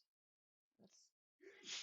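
A person sneezes twice in quick succession during a Sims 4 apartment build session: a short muffled burst, then a sharper, louder, hissing one, both fairly faint and close, with a few spoken words between them.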